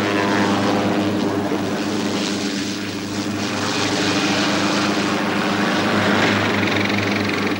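A steady, loud engine drone with rhythmic rotor thrum from a helicopter flying over the Amazon rainforest, continuous throughout with no pauses.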